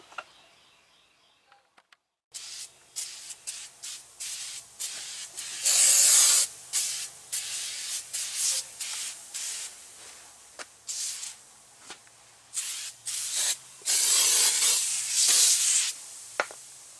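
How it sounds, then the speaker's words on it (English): Oven cleaner hisses from an aerosol can onto brake calipers and rotors in repeated bursts, some short, others several seconds long, close and loud, separated by quiet pauses with small rubbing sounds. "I'm just gonna spray it over all this here."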